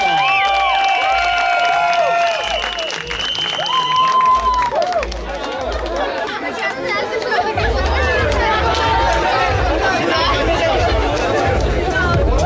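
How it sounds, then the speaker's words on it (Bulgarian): An audience at a flair bartending contest fills the room with loud crowd noise, clapping and cheering mixed with chatter and whistles, sustained throughout, with music underneath. "Аплодисменти за Роя!"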